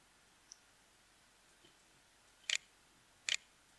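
A mouse clicking keys on the Windows on-screen keyboard, two crisp close clicks about a second apart after a faint tick, in an otherwise quiet room.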